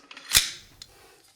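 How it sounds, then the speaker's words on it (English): AR-15 charging handle and bolt carrier group slid back into the upper receiver during reassembly after cleaning, giving one sharp metallic clack followed by a faint click, close and alone. "we're going to take the charging handle, slide it back into the upper"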